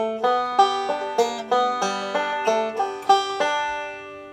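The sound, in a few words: banjo slides and pull-offs playing I'll Fly Away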